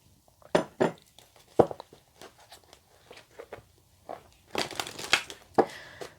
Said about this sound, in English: So let me just shuffle the clarifiers, just bear with me.